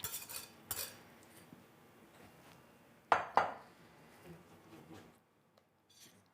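Wet and dry chocolate cake ingredients with buttermilk are whisked in a bowl, producing soft scraping and light metal clinks against the bowl, two sharp knocks midway, then quiet.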